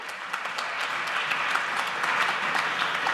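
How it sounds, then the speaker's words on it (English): Steady, moderately quiet audience applause at a college night event for freshmen as a staff member is introduced, dense overlapping claps held evenly throughout. "And Mr. Sandifer, give him a round of applause."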